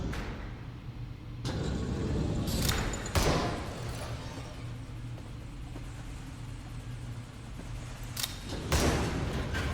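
Gunfire in the video game Vaporum: a few sharp loud blasts stand out over a steady low mechanical hum, with a final burst near the end and no one talking.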